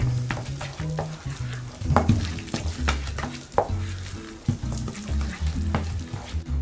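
Butter being mixed with onions, garlic and parsley, heard as close, uneven scraping and stirring strokes of a utensil in a bowl, rhythmic bursts of mashing and knocking with short pauses, no talking.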